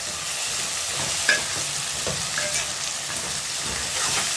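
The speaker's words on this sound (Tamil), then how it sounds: "கத்திரிக்காய் முருங்கைக்காய் இதோ வெங்காயம் தக்காளியோட சேர்ந்து நல்லா வதங்கட்டும்" Eggplant and drumstick sautéing in a pan with onion and tomato for a tamarind curry, a continuous close sizzle broken by a few light scrapes and taps of a stirring spoon.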